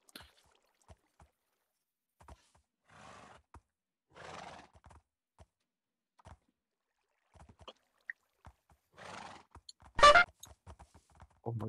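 Game horse sounds from the Minecraft SevTech modpack: a few soft scattered hoof clops and brief whinny-like calls, then one loud sharp neigh near the end, with no talk.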